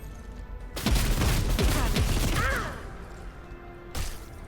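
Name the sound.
gunfire burst in the video game Warhammer 40k: Rogue Trader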